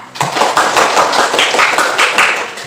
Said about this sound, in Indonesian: Sekali lagi kita beri aplaus untuk ketiga kelompok telah membacakan hasil diskusinya